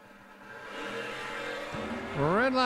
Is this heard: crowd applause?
no